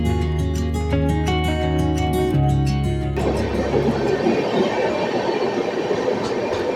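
A train pulls into Jhargram railway station, a loud steady rumble with a strong horn-like tonal blast at first, then broadband rolling wheel and carriage noise filling the rest.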